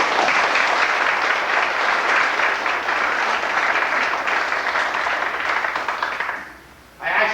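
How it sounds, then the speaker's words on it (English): A warm round of applause for Bill Matthews rises from a seated audience, sustained broad clapping held at an even level before tapering off quickly near the end. "great round of applause"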